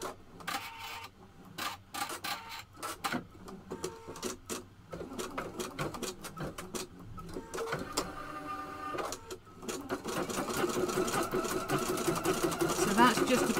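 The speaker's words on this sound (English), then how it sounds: "So it's going to sew on this half." An embroidery machine stitching one half of a large hoop, rapid mechanical needle clatter in bursts and steady runs with whirring carriage movement, close up, growing busier toward the end.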